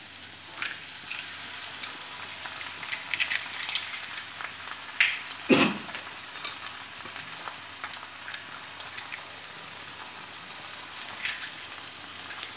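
Egg frying in a little oil in a pan for egg thoran, a soft continuous crackling sizzle with scattered pops and one louder utensil clatter partway through, fairly faint and steady, no talking.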